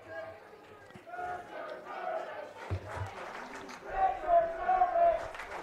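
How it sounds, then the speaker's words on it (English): A high-school baseball crowd at an Indiana versus Bellefonte playoff game, the Indiana student section chanting and yelling raucously, rising louder toward the end with mixed voices and some clapping. "the Indiana crowd is starting to cheer, and their student section's getting very raucous"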